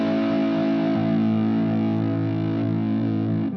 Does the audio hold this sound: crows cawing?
no